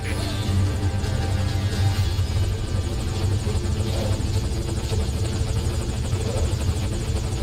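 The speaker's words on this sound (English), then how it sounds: "Put the target on the chopper." Helicopter hovering at a landing zone in Metal Gear Solid V: Ground Zeroes, a continuous heavy rotor thrum and engine whine, close and loud, with no voices.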